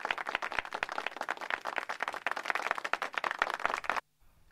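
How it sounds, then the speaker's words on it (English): An audience at a panel discussion applauds as the panelists walk up to the dais, with dense, steady clapping for about four seconds before it cuts off abruptly. "Please give them a round of applause as they join us up on the dais."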